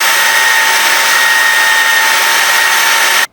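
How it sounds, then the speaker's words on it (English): Power sander smoothing a carved yew wood Celtic spoon: a loud, steady, continuous whirring hiss with a faint high tone running underneath, cutting off abruptly at the end. "Just going to give this a little sand now to get rid of that last bit of paper"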